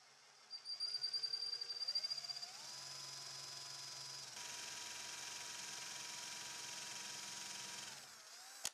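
A drill bores a dowel hole into wood, first revving up in a few bursts, then running at a steady whining pitch for several seconds before winding down, faint and alone.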